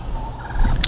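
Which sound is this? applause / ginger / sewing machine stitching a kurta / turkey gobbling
turkey gobbling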